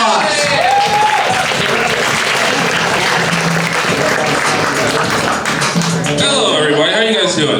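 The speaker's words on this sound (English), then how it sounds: "So let's give him a round of applause." Steady, loud audience applause at a comedy show welcoming the host to the stage, a dense wash of clapping that fills the whole stretch, with a few voices and cheers mixed in near the end.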